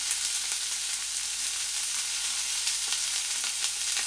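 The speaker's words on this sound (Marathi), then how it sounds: "टोमॅटो पटकन मऊ व्हावा यासाठी इथं थोडंसं मीठ टाकायचं आहे आपल्याला" Tomatoes with salt fry in oil over low heat, giving a steady, even sizzle with faint stirring clicks, close and continuous throughout with no voices.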